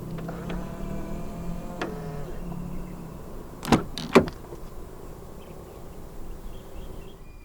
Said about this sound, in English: To lock the car, press the ribbed area on any of the front door handles